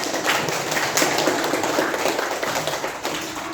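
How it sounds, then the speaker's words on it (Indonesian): Classroom applause from pupils, a dense continuous patter of many hands clapping together throughout, fairly loud and close, with a bit of room noise underneath. "Beri tepuk tangan dulu"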